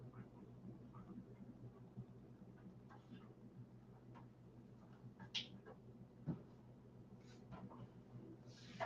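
A cat gives faint, scattered meows and chirps indoors over a steady low hum, with a couple of sharper mews standing out briefly.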